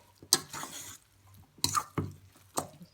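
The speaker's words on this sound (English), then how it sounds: "I'm going to stir this up really good." Wet, squishy stirring of a mackerel patty mixture in a bowl, three separate bursts of sticky squelching with short pauses, close and moderately loud, no talking.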